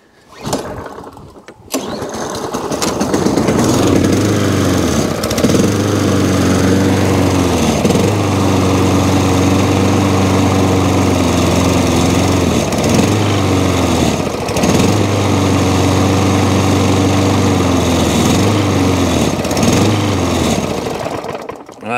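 A small lawn mower engine with a fuel leak, running on prime, starts up and runs loudly and steadily nearby, its pitch dipping and recovering in repeated surges as it labours.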